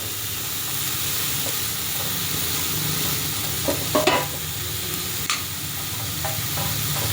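Grated carrot sautéing with softened onion in a pan for a cheese carrot sandwich makes a continuous sizzle, with a short burst of clattering utensil stirs midway and a few lighter taps after.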